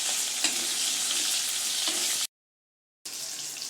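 Fennel, cumin, shallots and dried red chilies sauté in hot oil in a pan, a loud continuous bright sizzle with a few stirring knocks, cut by a brief dead silence before the frying resumes.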